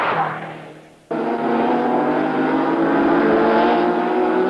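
A mid-engined Renault 5 Turbo, its engine moved from the front to the centre of the car, roars loudly and steadily with a rich rising engine note after a brief fading sound and a sharp cut-in.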